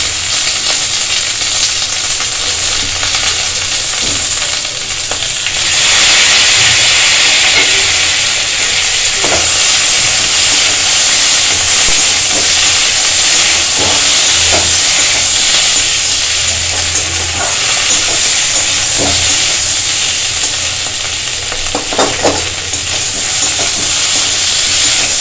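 Chopped tomato hitting hot oil with fried ginger and green chili, a loud continuous sizzle and hiss close by, with occasional spoon clatter against the pan and no voices.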